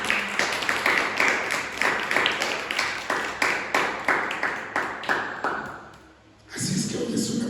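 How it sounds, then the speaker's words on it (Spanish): A church congregation claps in a steady rhythm during a service, sharp regular claps repeating about three per second before briefly dropping away and resuming, with a voice faintly present. "Ruega su fuerte aplauso."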